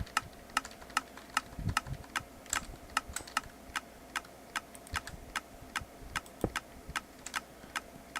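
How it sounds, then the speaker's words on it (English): Steady, rapid clicking from a mob drop separator in Minecraft, sharp ticks repeating at an even metronome-like pace over a low background hum, with no talking. "You can hear the constant clicking. Sounds like a, what's that thing called? A metronome?"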